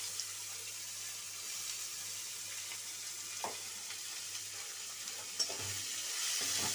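Onions frying in oil after a tempering of bay leaf, dried chilli and cumin for a Bengali fish curry, making a steady quiet sizzle with a couple of faint stirring knocks, no talking.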